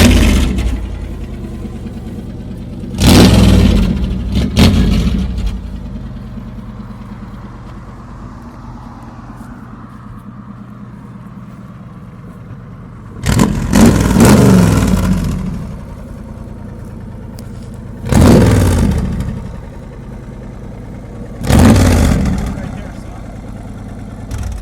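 A 1951 Cadillac rat rod lowrider engine idles low and rumbling, then blips loudly in four separate short revs spaced across the stretch, each rising and falling back to idle.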